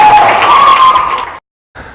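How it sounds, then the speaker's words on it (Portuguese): An audience clapping along at the end of a Christian class session: a steady, loud wash of applause with faint cheering mixed in, then a sudden cut to silence before the noise briefly returns. "Pode bater palmas"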